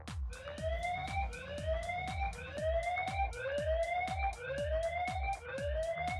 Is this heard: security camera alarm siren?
yes